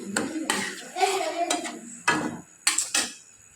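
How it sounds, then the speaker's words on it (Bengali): Mashed roasted eggplant, tomato and garlic being stirred in a wok, a series of irregular metallic scrapes and clanks of a utensil against the pan, close and fairly loud, with brief pauses between strokes. "আমি এবার এটার মধ্যে মিশিয়ে দিচ্ছি।"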